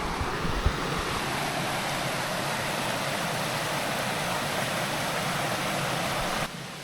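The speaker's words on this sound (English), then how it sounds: "And here right beside camp, we have the creek," Seneca Creek rushes steadily beside a backpacking campsite, a loud, continuous broadband wash of flowing water heard up close with no voices, cutting off abruptly at the end.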